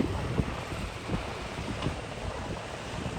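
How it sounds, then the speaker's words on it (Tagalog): Rough, continuous rush of strong sea waves churning against wind buffeting the microphone, with low rumbling surges throughout and no voices. "Napakalakas ang alon."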